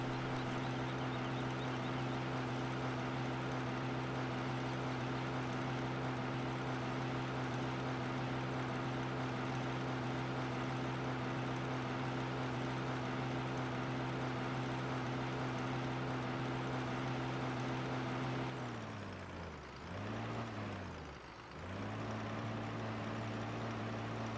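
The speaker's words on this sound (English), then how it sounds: "And hopefully this tractor will handle that plow." The tractor engine in Farming Simulator 15 holds a steady, droning hum, then dips and wavers in pitch twice near the end before settling back. No speech is heard.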